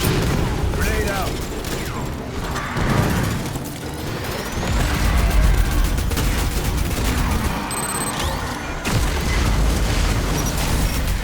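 A grenade blast in the sci-fi shooter Aliens: Fireteam Elite, a loud boom buried in sustained gunfire and battle noise, with a voice speaking over the combat.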